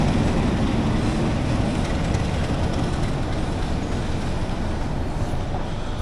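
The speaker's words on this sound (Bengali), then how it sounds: "ট্রেনটা ছাড়ছে" A train pulling out of Akhaura junction station in dense fog, a steady loud rumble of rail wagons rolling continuously close by, with no talking over it.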